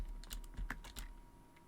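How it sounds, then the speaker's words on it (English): Several quick, soft keystrokes on a computer keyboard tap out in a short irregular cluster, close and fairly quiet, with no talking over them. "just press 2 on my keyboard"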